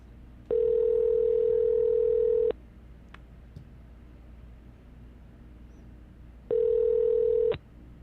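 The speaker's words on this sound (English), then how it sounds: "if I can get him on the phone" A steady telephone dial tone sounds in two bursts, about two seconds and then one second long, with faint clicks between them over a quiet background hiss and no voices.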